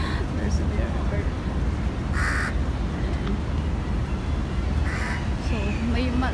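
A crow caws a few times, loud and harsh, over steady wind and traffic noise in Dubai Marina during a sandstorm, with people talking nearby.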